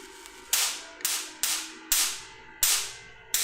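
A Van de Graaff generator throws sharp electric sparks: six crisp, loud snaps at slightly uneven intervals, each a bright crack that fades quickly, over a faint electrical hum.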